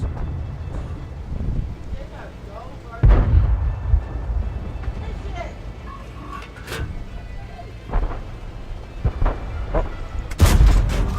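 Tank cannon shots in the World of Tanks game, an AMX M4 mle. 45 in battle, with heavy booming blasts at intervals over a low rumbling engine background, loud and close.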